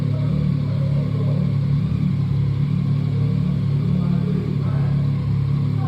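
A motorcycle engine rumbles steadily nearby on a stone street in Bari Vecchia, Italy, a low droning growl that holds at a constant loud level throughout.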